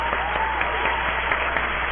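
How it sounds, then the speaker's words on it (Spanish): A studio audience at Miraflores TV Digital claps for Dr. Walter Grados, a steady, close burst of applause filling the moment, with individual hand claps audible in the mix. "vamos a darle un fuerte aplauso"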